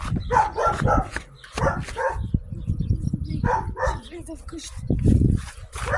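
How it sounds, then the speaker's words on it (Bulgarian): A dog barks several times outdoors at night, short sharp bow-wows mixed in among people talking nearby. "Кучето нещо лае."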